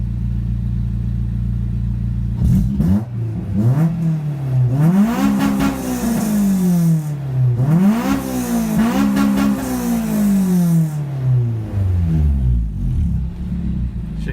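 A Nissan Infiniti car engine revving hard on a two-step launch limiter, with repeated rising and falling sweeps and a steady idle rumble before and after, loud and close with no talking.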